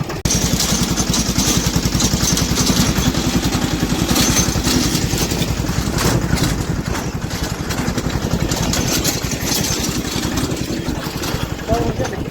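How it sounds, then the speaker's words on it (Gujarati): Chhakda (sanedo) motor vehicle engine running after starting, a loud, rapid single-cylinder putter with steady rhythmic pulses close by, people talking faintly over it. "સનેડો છે ને ચાલુ કરવો"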